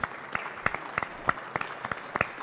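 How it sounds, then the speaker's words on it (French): Applause at a trophy ceremony for the Business Industries trade fair in Reims: scattered individual claps ring out clearly over a crowd's softer clapping, a moderate burst of hand-clapping with no talk. "Et ça aussi, ça mérite un tonnerre d'applaudissements,"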